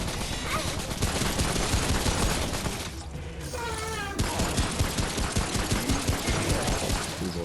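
Rapid gunfire in the Remnant From The Ashes video game, a dense run of loud shots with a brief gap near the middle, where the sound shifts before the firing resumes.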